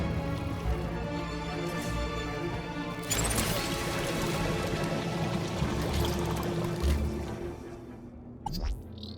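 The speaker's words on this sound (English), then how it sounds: "Water refill complete." Water refilling inside the video game Beyond a Steel Sky: a steady pouring rush over a low hum, swelling louder with a splashing crash partway through, then tapering off into trickles and a final clunk.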